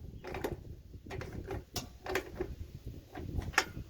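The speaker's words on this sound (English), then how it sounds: "So tightening these down until they're snug." Bolts are tightened down on an RV sewer hose storage box: quiet, intermittent metallic clicks and ratcheting scrapes, a few sharper ticks spaced irregularly, close by with no talking.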